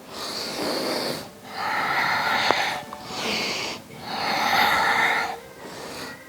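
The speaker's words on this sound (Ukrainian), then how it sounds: "Дихаємо." Heavy, audible breaths during a short morning warm-up exercise routine, several long inhale and exhale cycles in a slow steady rhythm, close and fairly loud with no talking.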